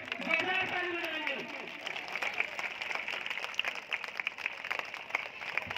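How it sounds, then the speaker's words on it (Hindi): A large crowd applauds at an open-air song concert in Unnao, with dense, sustained clapping that follows a brief voice at the start and continues at an even level. "इस कार्यक्रम के लिए सभी लोग खड़े होकर जोरदार ताली लगाएंगे"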